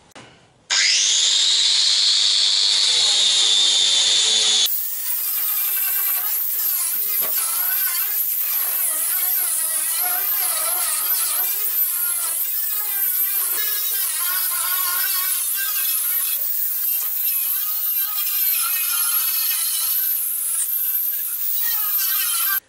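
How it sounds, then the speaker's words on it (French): Angle grinder fitted with a wire brush sanding the rusty steel floor of a Citroën Traction 11B, a loud close continuous whine that briefly drops after spin-up before grinding steadily against the metal. "pour poncer mon plancher de traction, j'ai utilisé carrément une meuleuse sur laquelle j'ai installé une brosse métallique"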